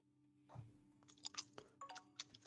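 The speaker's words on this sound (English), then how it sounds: "What are you eating? It sounds crunchy." Someone close to the mic chews crunchy food, giving a burst of crisp crackling bites and chomps in an irregular rhythm, fairly quiet against near silence with no talking.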